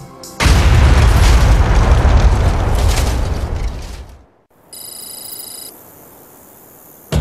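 Bomb blast test inside an out-of-service 747 fuselage: a sudden massive, close boom followed by a long roaring rumble that dies away over several seconds, then quieter debris and ringing noises.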